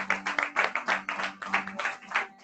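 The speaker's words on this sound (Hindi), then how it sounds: "आइए समय सारी बातों के लिए हम ताली बजा कर" A congregation claps at an evening prayer service, in a quick, rhythmic pattern of close, bright bursts with a faint hum underneath.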